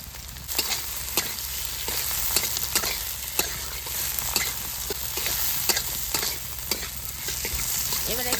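Green chilies, onion and tomato frying in a pan, with a steady low sizzle and regular sharp scrapes and knocks of a spoon stirring, close and continuous, without talk.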